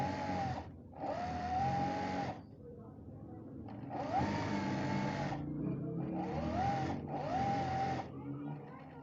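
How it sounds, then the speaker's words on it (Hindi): A sewing machine stitches the hem of palazzo pants in several separate bursts of steady whirring, close and clear, with short pauses between runs. "यहाँ से इसके पांचे से इसको सिलाई करना शुरू करनी है।"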